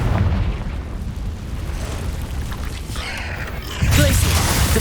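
Confringo, an explosive fire spell in Hogwarts Legacy, set off in a cave battle. Rumbling, crackling magical effects build before a heavy booming blast lands near the end.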